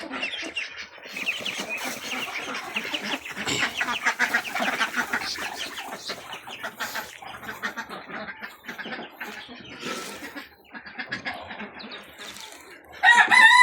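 Ducks on a farm are fed, and a busy flock of fowl calls and clucks loudly and close throughout, with a sharper burst of calls at the very end.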